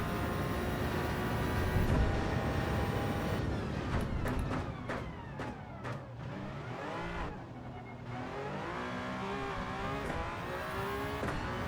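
An Audi engine in a racing video game, a continuous loud drone with rising and falling pitch as it revs and shifts, rumbling from start to finish.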